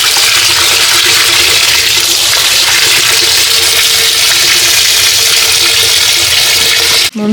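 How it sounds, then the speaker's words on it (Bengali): Potatoes being washed under running water, a loud, steady rush of tap water and splashing that fills the whole stretch and cuts off abruptly at the end. "বন্ধুরা আলুটাকে সুন্দর করে ধুয়ে নিলাম।"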